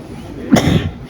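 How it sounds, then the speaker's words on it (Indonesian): A single short cough from a person among a crowd of Banyuwangi hajj pilgrims departing in 2025. It is a close, loud burst lasting under half a second against a steady hum. "Batuk sampai ya."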